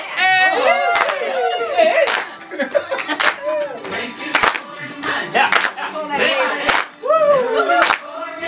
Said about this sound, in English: Let's do one more where we just clap and dance.